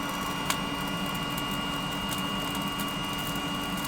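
A heat gun blowing onto a lump charcoal fire in a Big Green Egg grill, a steady close mechanical whir and airy roar with a single click near the start.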